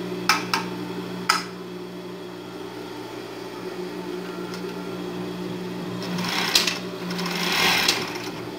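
An industrial overlock sewing machine runs a test stitch after its stitch density is adjusted, giving a steady mechanical hum with a few sharp clicks at the start and rising whirring bursts near the end, heard alone.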